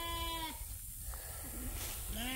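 Two bleats from farm sheep on a rain-soaked farm. One is at the start and another follows near the end. Both are close and clear, with quiet outdoor background noise between them.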